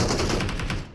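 Gunfire in a shooter video game while enemies are shot down: a quick burst of rapid, evenly spaced shots, loud and close, fading at the end.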